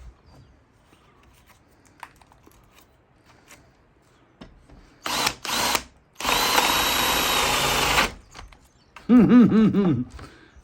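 A power drill turns a large, big-toothed bit through wood, running in loud broadband bursts around 5–6 seconds, then one sustained grinding stretch from about 6 to 8 seconds, with a final tonal whine near the end. Quiet handling noises come before the drilling.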